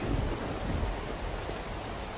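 Steady rain pours in the SCUM open-world prison game during cold weather, with low thunder rumbling underneath in a continuous, even wash of noise and no voices.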